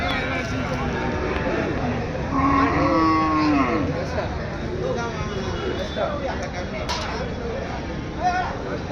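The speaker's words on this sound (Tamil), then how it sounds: "நம்ம தேப்பந்தல் சந்தைக்கு வண்டி மாடு வந்திருக்குது" Draught bullocks low at the Theppanthal cattle market in Tiruvannamalai district, a few drawn-out moos rising over busy crowd chatter and people talking nearby.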